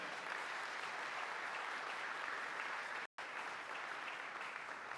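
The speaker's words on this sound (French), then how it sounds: "Nous avons applaudi pour la voix du Seigneur." A church congregation at a Sunday service applauds in a dense, steady wash of clapping, with a brief cut partway through before the applause resumes at the same level.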